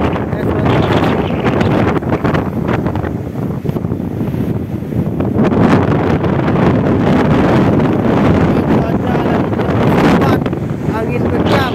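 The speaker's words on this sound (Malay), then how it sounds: "Angin kencang" Strong coastal wind buffets the microphone in a steady, loud roar along an Aceh shore where a damaged Rohingya refugee boat has run aground, with a voice speaking faintly underneath.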